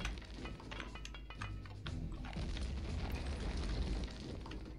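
Grenades go off in the first-person shooter Return to Castle Wolfenstein, heavy booming blasts and crackling bursts layered densely over a constant rumble of gunfire and battle noise.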